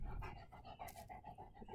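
A dog pants heavily and close by in quick, even breaths, with a faint whimper mixed in.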